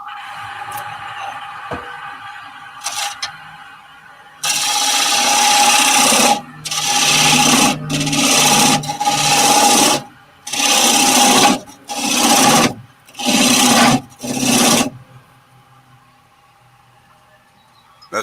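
A parting tool cuts into a wooden lamp base spinning on a lathe, giving loud, raspy scraping bursts that start and stop in about eight separate passes with short pauses between them, after a quieter stretch at the start.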